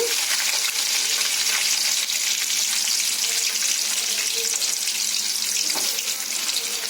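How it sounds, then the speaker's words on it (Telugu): Chopped onions drop into hot oil with chana dal, cumin and mustard seeds in a pan, giving a steady, loud, even hiss of frying that holds without break throughout. "ఆయిల్ వేడయ్యాక మనం కట్ చేసుకున్న ఉల్లిపాయ ముక్కలు వేసుకున్నాము"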